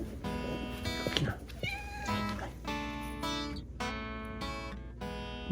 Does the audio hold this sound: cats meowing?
yes